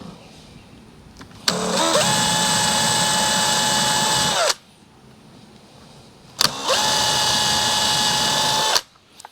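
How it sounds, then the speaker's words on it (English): Power drill whirs at high speed for about three seconds, stops, then runs again for a second burst; loud and close, no talking. "Drill a hole."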